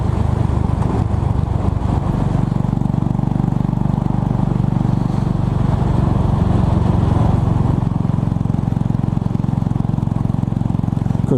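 A Royal Enfield Bullet 500 motorcycle rumbles continuously while being ridden on a morning road, a loud, steady low engine note mixed with wind buffeting, without a break.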